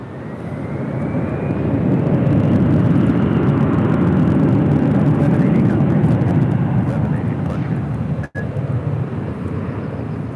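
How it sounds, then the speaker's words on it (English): A Delta Airbus A321 bound for Detroit departs at LAX, a loud, sustained jet roar that stays near and powerful for the full stretch, with a brief dropout near the end. "This is Delta 494 about to depart to Detroit on an A321."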